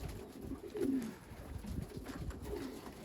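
Young 2022 racing pigeons cooing at the loft, low throaty coos repeating close by over a soft outdoor background, with no talking.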